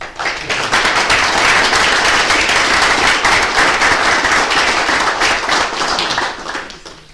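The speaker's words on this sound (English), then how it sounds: "We can give Captain Zula a round of applause." Round of applause at a council business meeting, dense steady clapping from a roomful of attendees that holds at full strength for several seconds before trailing off.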